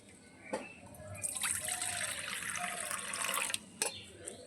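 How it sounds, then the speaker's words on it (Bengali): Rice rinsed in water, a sustained splashing and swishing of water in a bowl with trickling, framed by a few short knocks, fairly quiet and close. "জল দিয়ে প্রথমে কষলে কষলে করে তিন চারবার ধুয়ে নিতে হবে"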